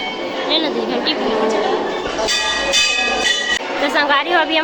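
A temple bell rings at a Sheetla temple during wedding festivities, with bright metallic ringing tones that repeat over a busy crowd, while people talk nearby.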